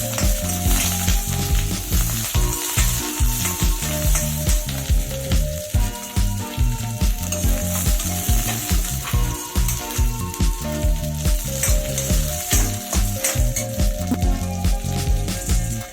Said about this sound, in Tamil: கருவேப்பிலையும் வரமிளகாயும் சேர்த்து நல்லா வணக்குங்க